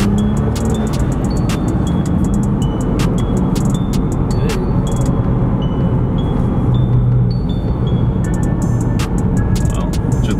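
A Nissan Skyline GTR R35 accelerates hard, its engine roaring steadily and close throughout, as heard from inside the car, with voices talking over it.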